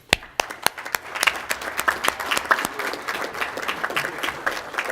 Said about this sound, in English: I want my kids to give their families a nice round of applause.